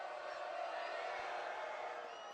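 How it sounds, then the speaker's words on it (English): A gym crowd at a men's college basketball playoff game murmurs and cheers in a steady, faint, distant wash of sound with no sharp peaks. "Crowd starting to get into this a bit."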